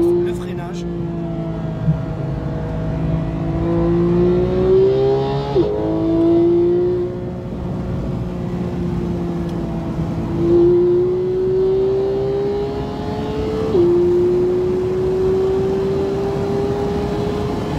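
A Porsche GT3 accelerates on an F1 circuit, heard from inside as a loud engine whose pitch climbs steadily through the gears with clear drops at each upshift. A person talks over the engine.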